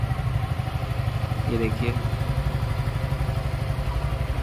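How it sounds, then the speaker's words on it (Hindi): A motorcycle engine, either a Suzuki Gixxer 150 or a 2023 TVS Ronin 225 E20 model, idles with a steady rapid thumping after a clutch start, close and even, while someone speaks briefly over it. "तो हम क्लच दबा के हमने स्टार्ट करी, बाइक स्टार्ट हो गई"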